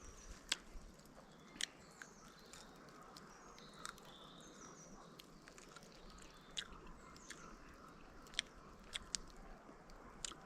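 Venison steak and partridge being chewed outdoors at a woodland lunch, quiet wet chewing with sharp crunchy bites recurring every second or so against a faint natural background.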